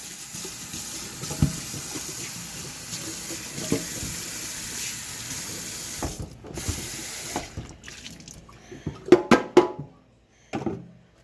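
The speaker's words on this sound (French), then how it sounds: "on va aller laver les légumes" Tap water runs steadily into a kitchen sink as vegetables are washed for seafood spaghetti, a continuous close splashing that turns into louder, intermittent splashes and clatter as it nears the end.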